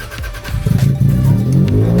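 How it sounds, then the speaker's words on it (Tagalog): A Toyota Corona car engine running after starting, a steady low rumble with rising revs, close and fairly loud with no talking. "Ngayon, pa-startin ko yung Corona."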